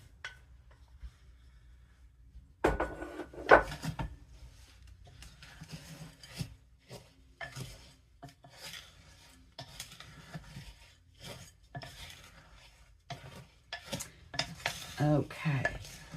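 Vanilla wafers mixed with a wooden spoon in a bowl for rum balls, irregular close scrapes, knocks and crunchy stirring strokes after a quiet opening, growing busier toward the end.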